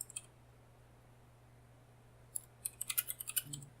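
A quick burst of key clicks after near silence, rapid and uneven taps, close and fairly quiet, like fingers typing on a keyboard.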